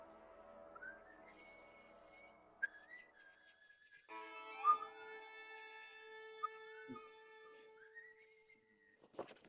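A lone person whistles the Red Dead Redemption theme, a slow melodic tune with long held and sliding notes, clear and close in a quiet room, with a few soft knocks and clicks in the background.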